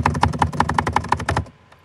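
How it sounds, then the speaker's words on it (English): Rapid computer keyboard typing, a quick even burst of about ten sharp key clacks close up, stopping abruptly after a second and a half. "That keyboard spam, though."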